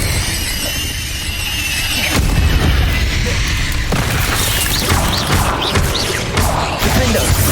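A Confringo spell fires in Hogwarts Legacy, setting off dense, loud booms and crashes with squealing magical effects layered over a busy game soundscape.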